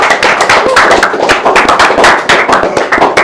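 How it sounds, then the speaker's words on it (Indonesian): An audience applauds with dense, fast clapping that pulses in quick waves, loud and close throughout. "semuanya ayo tepuk tangan buat SMK Epin."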